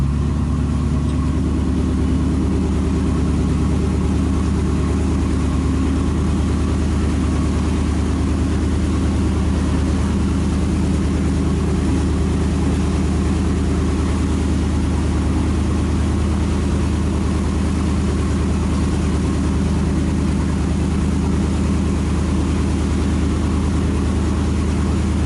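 Steady low drone of a Volvo Penta marine engine holding about 1200 RPM with a full freshwater-cooling upgrade, a continuous loud rumble with no speech over it.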